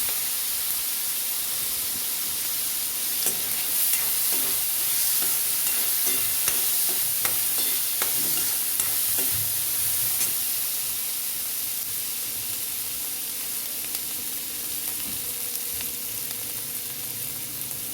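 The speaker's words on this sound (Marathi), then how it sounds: "अशा प्रकारे हरभऱ्याची डाळ व्यवस्थित भाजून घ्यायची आहे" Soaked chana dal roasts in a pan and is stirred, a constant dry sizzling hiss close by with clicks and scrapes from the spoon in the middle stretch, with no talking.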